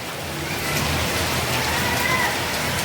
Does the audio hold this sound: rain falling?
yes